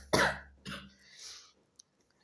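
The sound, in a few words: coughing from a cold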